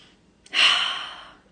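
One deep inhalation, close and clear, rising sharply and then tapering off gradually before fading into quiet.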